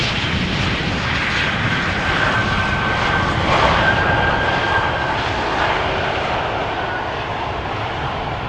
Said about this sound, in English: going to center is TUI, arriving from Kitila, a regular 737-800